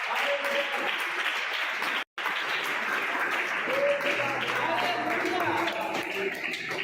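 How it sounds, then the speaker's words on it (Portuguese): A youth church congregation claps in praise, a continuous mass of clapping with voices and singing mixed in, broken by one brief dropout of silence early on. "Exalte o Senhor com as palmas"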